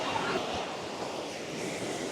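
A waterfall in Vietnam pours with a steady, dense rushing hiss of falling water that fills the whole sound. It stays constant and fairly loud throughout, with no clear voices over it.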